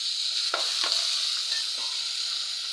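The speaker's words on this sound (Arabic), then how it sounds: "نحمر الشعريه بعد ما تتحمر نحط عليها الرز والرز" Vermicelli sizzles steadily as it fries in a pan, a bright continuous hiss broken by a few soft scrapes of stirring, close and alone.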